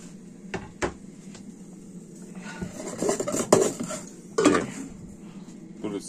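Onions go into a pan of frying fat while rice is cooked in a home kitchen, with clinks of a utensil against the pan and scattered clatters and scrapes at close range.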